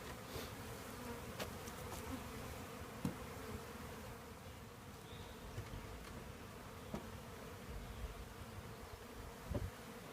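Honeybees hum at a hive as it is installed, a steady close drone from many bees with a few faint knocks and no talk.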